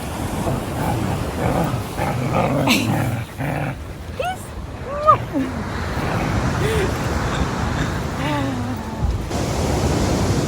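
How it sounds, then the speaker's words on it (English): A dog growls intermittently while playing with a stick, amid background rushing rain noise, with a few brief squeaky sounds and some distant talk. "See if you can hear her, she growls when she does it."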